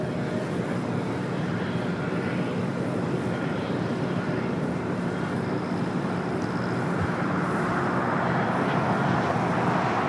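An airliner takes off from runway 25 Right at LAX, a dense, steady jet roar that holds strong and unbroken for about ten seconds, heard from a distance with no voices over it.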